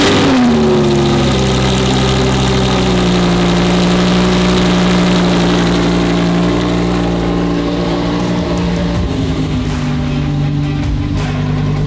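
A Lamborghini drift car's engine fires up from cold and idles loudly at high revs, a deep steady roar that gradually settles lower, close by and uninterrupted.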